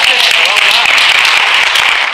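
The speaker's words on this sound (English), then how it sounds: "Let's clap." An audience at a church-affiliated retreat gathering breaks into brief applause, a short burst of clapping mixed with voices talking over it.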